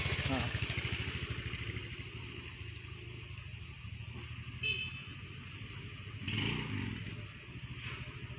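Motorcycle engine chugs nearby as the bike crosses the narrow single-lane Tonjong bridge, a 1926 Dutch colonial bridge in Bogor, with a horn toot and a short rev, while a person talks over it.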